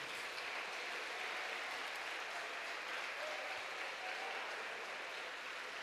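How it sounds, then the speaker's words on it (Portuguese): A church congregation applauds steadily for about six seconds in a large worship hall, a dense, even wash of hand clapping at moderate level with no voices over it. "Quem pode aplaudir o Rei da Glória aí?"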